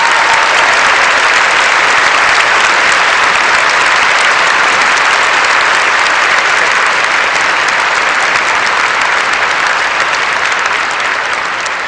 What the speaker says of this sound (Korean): 큰 박수를 보냅니다